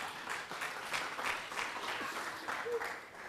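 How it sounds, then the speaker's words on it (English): An audience at a team-building workshop claps in moderate, continuous applause, somewhat distant and soft, without clear speech over it. "Let's give him a round of applause."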